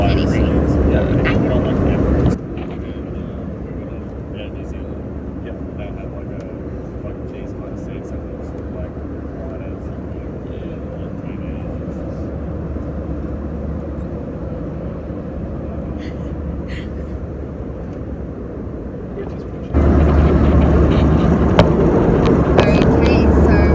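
Steady airplane cabin drone during a flight, a constant low roar that fills the whole clip and swells louder at the start and end.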